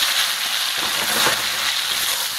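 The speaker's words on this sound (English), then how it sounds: "I'm adding the mushrooms that have been all sliced, and I added some soy sauce to them" Sliced mushrooms tossed in soy sauce sizzle loudly in a pan of hot olive oil, a steady dense crackling hiss that carries through the whole clip without voices.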